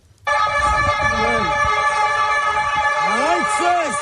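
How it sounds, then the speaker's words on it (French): Snow removal vehicle siren in a Montréal street during snow clearing, a loud continuous wailing tone that starts abruptly and holds steady, with voices shouting over it. "il y a quelqu'un qui a interpellé un gars qui faisait aller sa sirène"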